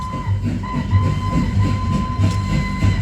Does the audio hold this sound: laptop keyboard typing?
no